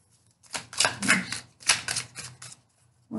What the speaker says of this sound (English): one more shuffle here, guys.